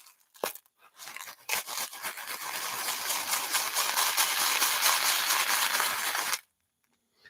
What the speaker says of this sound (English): I've got a mix of chickpeas and rice and sugar here. Exploring, mixing, exploring,